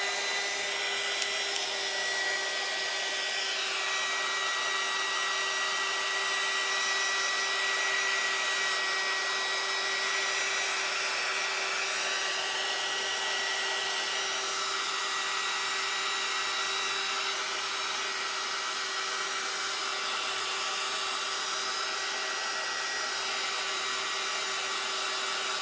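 A hair dryer blows a steady high whine and rush of air close by, drying a wet faux cherry for a DIY craft, unbroken for the whole stretch with no speech.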